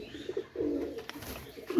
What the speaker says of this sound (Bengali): এই যে এক সেট টেডির বাচ্চা আছে দেখেন